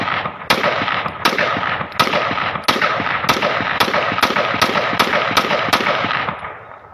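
A Pakistan-made Beretta 92FS pistol being test fired outdoors, about ten loud sharp shots in a steady, evenly spaced rhythm with echoing tails, then fading away.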